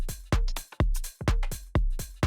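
Punchy electronic drum loop run without the first hard clipper, with deep kick hits and snappy snare and percussion in a tight, repeating pattern, loud and dry with no voice over it.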